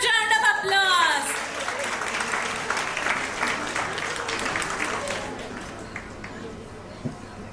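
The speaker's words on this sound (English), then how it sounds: "Please give a huge round of applause" Audience applause at a school annual day celebration, a crowd's clapping that swells after a voice and then slowly fades, with some cheering.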